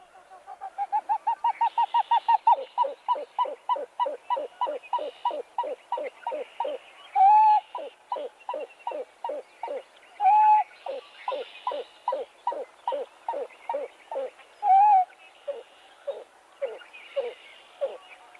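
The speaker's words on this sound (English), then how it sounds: "let's play the ow hoop call of the pied-billed grebe" A pied-billed grebe call that starts as a rapid series of hollow, accelerating notes, then settles into steady repeated cooing hoots with a few longer whoops mixed in.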